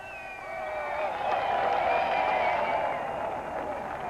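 A crowd rejoices as a concrete slab of the Berlin Wall is lifted away, a broad, steady swell of cheering and voices that builds and then holds at a fairly distant, even level.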